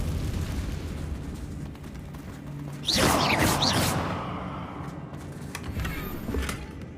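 A Confringo spell blast in Hogwarts Legacy bursts about three seconds in, a loud crackling explosion with a rushing tail that fades over a second or two above a steady low ambient rumble.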